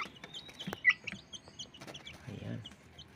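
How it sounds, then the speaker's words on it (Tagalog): Hatchery-raised chicks chirp and cluck in short, scattered calls while being given feed, close by and fairly clear, with a low rustle of movement among them. "Yan po ang aking mga sisiw na galing sa ating papisaan."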